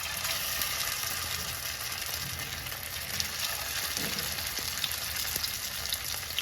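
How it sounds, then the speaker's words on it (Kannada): Vegetable cutlets shallow fry in a pan with a steady, close hiss and crackle of hot oil, continuous and even, with faint pops scattered throughout. "ಬಟ್ ನಾನಿಲ್ಲಿ ಶಾಲೋ ಫ್ರೈ ಮಾಡ್ಕೊಳ್ತಿದ್ದೀನಿ."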